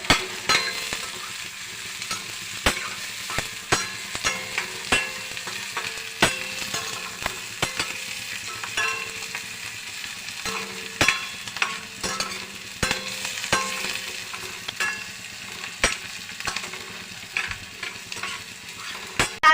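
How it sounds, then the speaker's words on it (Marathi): Food sautéing in a pan until browned, a continuous soft sizzle broken by frequent sharp clicks and scrapes of a spoon stirring against the pan, close up, with no talking. "हा आता लाल होईपर्यंत आपल्याला चांगला परतवून घ्यायचा आहे"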